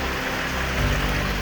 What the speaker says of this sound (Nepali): पानी जाँदैछ यहाँबाट